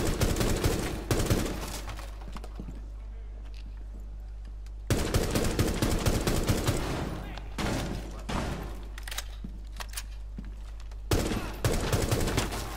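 Submachine gun fire in the video game Rainbow Six Siege, with several loud rapid bursts separated by short quieter gaps and a low steady game hum underneath.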